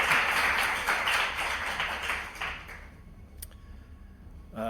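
Applause from a small audience at a Yale University colloquium talk, moderate and steady for nearly three seconds, then fading to quiet with a brief tap near the end.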